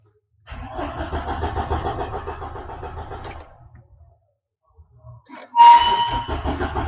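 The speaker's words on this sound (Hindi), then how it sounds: "तो अब हम लोग क्रैंकिंग करके देख रहे हैं।" A Mahindra diesel engine cranks but fails to start: a steady starter-motor churn for about three seconds, a pause, then another loud cranking burst, close up with no talking.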